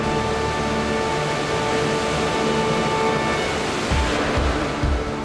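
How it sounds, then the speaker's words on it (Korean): The 215 m Samcheon waterfall on Mount Lushan roars in a steady, dense rush of falling water, loud and continuous with no voices. "215m의 웅장함을 자랑하는 삼척천 폭포다."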